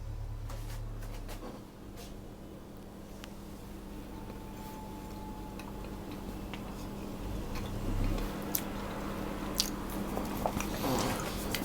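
Someone bites into and chews a blueberry streusel muffin close to the mic: soft, moist crunching and munching over a steady background hum, with no talking.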